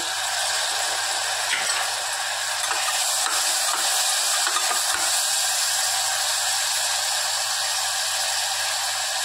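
Tomatoes added to softening onion fry in a pan, giving a steady, close sizzle throughout with occasional scrapes and stirring clicks, no voices.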